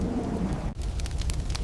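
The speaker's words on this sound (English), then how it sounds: "Dark clouds gather and lightning strikes dry trees." Thunderstorm with lightning striking dry trees: a loud, continuous rush of rain and rumbling thunder, with a brief dip midway followed by sharp crackling bursts.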